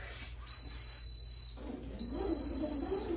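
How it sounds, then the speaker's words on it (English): A bread machine gives high electronic beeps in two long tones separated by a short pause, over its steady mechanical hum. "let it start to do its second raise, and it'll be beeping for a few minutes."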